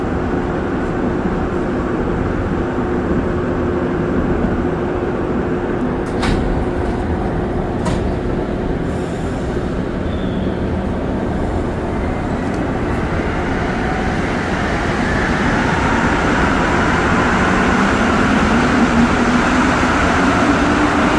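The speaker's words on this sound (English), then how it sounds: "Try to get a nice view of this train leaving Peel Station when I get off." A Montreal metro train pulls out of Peel Station, a steady loud rumble and rolling roar that gradually swells toward the end, with a few faint high squeals early on and no talking.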